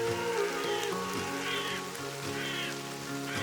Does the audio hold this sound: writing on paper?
no